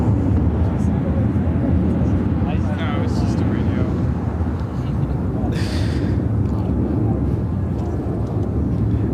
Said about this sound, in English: This is Contour Aviation 3068 taking off to Kirksville on the CRJ 200 LR.